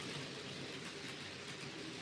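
Model railway trains run on a home layout, giving a faint, steady rolling rumble and soft clickety-clack with no other sounds.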